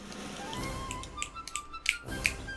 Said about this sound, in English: You snapping your fingers isn't helping as much as you think.